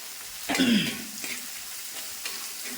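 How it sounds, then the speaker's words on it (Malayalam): Dried chillies frying in hot oil give a loud burst of sizzling and crackling near the start, then a lower steady sizzle with a couple more brief flare-ups, close by and without speech. "അപ്പോൾ ഇത് എണ്ണയ്ക്കകത്ത് കിടന്ന് നല്ലതുപോലെ വറന്ന് വരണം"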